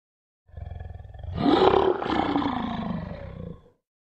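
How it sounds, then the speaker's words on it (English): A tiger roars in one long, loud, close call that swells and then fades over about three seconds, heard alone with no other sounds. "Tiger."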